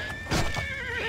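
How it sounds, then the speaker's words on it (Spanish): A horse whinnies in Oblivion, a short bright neigh that rises then trails off, close and clear over a faint low background, with no talk. "Me parece que se está encargando el caballo de matar a esta"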